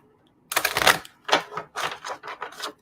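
A deck of Gilded Reverie Lenormand cards is shuffled by hand nearby, with several rustling bursts of card flicks separated by short pauses after a quiet start.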